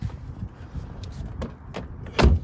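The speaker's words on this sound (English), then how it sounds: "Ooh, door handle works." A Volkswagen passenger car door handle and latch work after a lock actuator replacement, giving a few soft mechanical clicks and then a sharper, louder latch clunk near the end, close and quiet otherwise.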